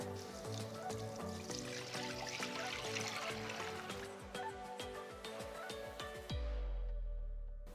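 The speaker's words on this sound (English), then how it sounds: "I've boiled 1 liter of milk. I'm going to pour this into the pan." Boiled milk, a full litre, pours from a vessel into a cooking pan in a steady close trickle for several seconds, then it stops and the pan settles into a quieter heating hum.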